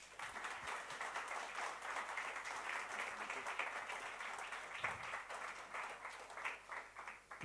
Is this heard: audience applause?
yes